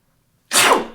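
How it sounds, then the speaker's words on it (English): A single loud, close staged sneeze in a student radio drama bursts out after a moment of silence and trails off quickly. "Sneeze."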